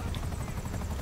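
Helicopter rotor chop from a chopper in GTA, loud and close, with a rapid thumping pulse over a dense low rumble, steady for the whole moment and no voices over it.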